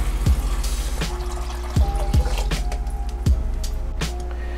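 Filtered water is poured into an aquarium tank, a close, sloshing pour with repeated squishy splashes and glugs landing at irregular intervals over a continuous watery rush.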